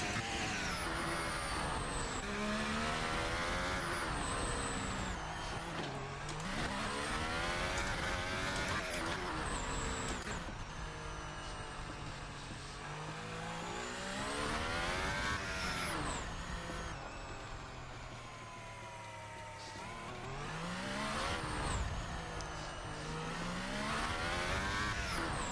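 A Formula 1 car in a racing game at Monaco revs hard and climbs through its gears, its loud engine howl repeatedly rising in pitch and dropping at each shift, continuous and close throughout.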